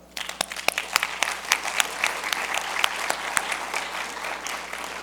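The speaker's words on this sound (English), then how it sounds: "they do deserve a round of applause" Sustained applause from a conference audience at a sustainable energy forum in Barbados, steady and fairly loud with sharp individual claps standing out near the start.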